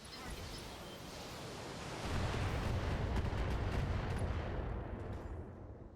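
Heavy mech weapons fire in a mech combat video game: continuous roaring, crackling bursts of gunfire and explosive rumble that swell louder midway, with a faint voice underneath.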